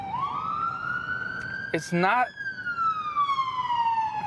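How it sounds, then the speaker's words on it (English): An ambulance siren passing by on the street holds a long rising then slowly falling wail, loud and steady across the whole stretch, while a person speaks briefly over it. "there's an ambulance passing by"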